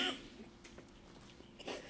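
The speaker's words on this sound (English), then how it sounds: "So excuse me for my cough" A short, quiet cough near the start, then a second soft cough or throat-clear just before the end, with no talking.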